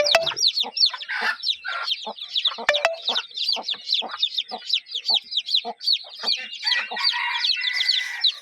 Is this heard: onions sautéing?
no